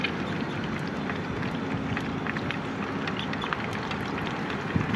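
Steady wind blowing outdoors beside a river, a dense continuous rush with light buffeting on the microphone and occasional faint clicks, no voices.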